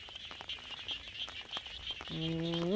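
Small frogs call across flooded rice fields on an evening after heavy rain, making a busy patter of quick, close croaks and chirps over steady background noise, with a rising whistle-like tone near the end.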